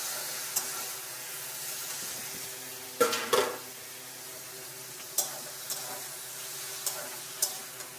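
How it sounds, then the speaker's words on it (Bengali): Ridge gourd and spices are stirred in a pan, a soft continuous sizzle broken by a cluster of sharp spatula knocks and several lighter taps against the pan. "ঝিঙ্গে ভালো করে নাড়াচাড়া করে মশলা সমস্ত মিশিয়ে নিলাম"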